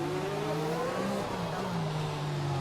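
Race car engine droning steadily as the car enters the pits, pitch sliding slightly down with a constant whirring tone behind it.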